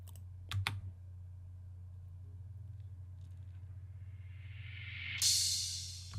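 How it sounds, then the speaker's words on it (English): A crash cymbal played backward and pitched down in a hip-hop beat, swelling steadily from near silence into a bright, noisy peak, over a low steady hum. "there's just a crash that I use to make a reverse."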